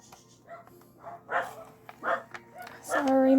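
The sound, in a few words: dogs barking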